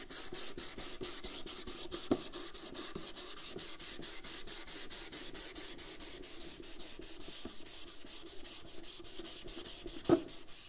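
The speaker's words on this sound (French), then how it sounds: "Je fais ceci avec un bloc de ponçage et un papier abrasif." Rhythmic back-and-forth scraping of a hand sanding block with abrasive paper on a café racer motorcycle part, steady strokes repeating quickly and close up, with no talking.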